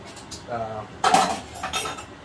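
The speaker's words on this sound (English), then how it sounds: "So it's time to cut into that steak." A knife and fork cutting into a wagyu steak on a plate make a short burst of close metallic scrapes and clinks, with soft rustling around them.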